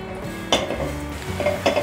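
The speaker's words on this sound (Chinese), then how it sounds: "锅内放入少许油，放入姜丝，把姜丝炒香" Shredded ginger stir-fries in a little oil in a pan, with a soft sizzle under scraping and clinking as a utensil knocks against the metal a few times.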